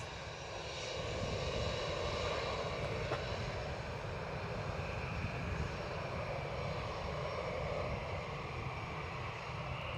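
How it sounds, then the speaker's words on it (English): WestJet jet, bound for Halifax, pushing back at Edinburgh Airport, with a continuous even engine roar and hum at moderate distance, unbroken for the whole stretch. "WestJet pushing. That will be the Halifax flight."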